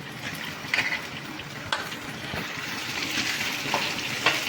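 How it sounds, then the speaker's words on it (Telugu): Washed drumstick leaves dropped into hot oil and frying for a chutney. A moderate, crackling sizzle carries on with intermittent stirring clicks and bursts of spitting, and no voices are heard. "తర్వాత కాస్త నూనె వేసుకుని మనం కడిగి శుభ్రం చేసుకున్న మునగాకు వేసేసుకుందాం."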